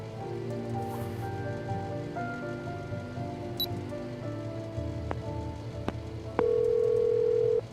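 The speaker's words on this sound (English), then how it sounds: "Lara isn't answering her phone." A phone goes unanswered in the Memento Mori video game, with a steady electronic ringing tone rising near the end over soft, rain-like background ambience and a few faint clicks.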